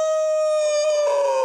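A dog howls in front of a house, a single sustained, steady, mournful tone lasting over a second, close and clear with no other sounds.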